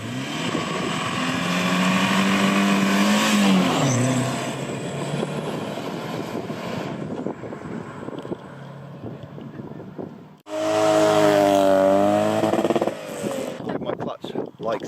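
Classic cars accelerate along an old RAF runway, their engines rising in pitch under heavy wind noise, with people talking over them and a second loud engine surge near the end.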